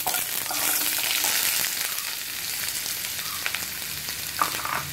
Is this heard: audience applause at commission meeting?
no